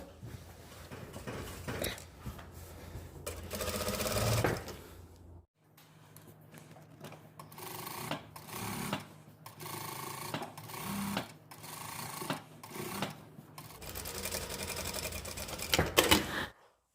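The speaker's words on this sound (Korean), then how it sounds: "뒷판 여기에 스티치 놓을 거예요. 앞판이랑 같은 방법으로." A sewing machine stitches the back panel of a sailor-collar dress in bursts of rapid mechanical whirring and needle clatter, with short pauses between runs, close and clear with no talking.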